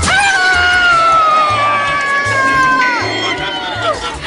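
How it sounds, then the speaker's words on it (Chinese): A large concert audience screams and shrieks in a loud sustained roar, with high wailing voices dominating throughout and a few low thumps underneath. "要买的人请尖叫！"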